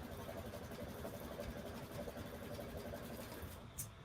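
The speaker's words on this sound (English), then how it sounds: "we are stitching out one of her collegiate fonts on the front" An embroidery sewing machine stitches a collegiate-style font onto the front of a notebook, giving a continuous, fairly faint mechanical whirring and rattling hum that runs steadily throughout.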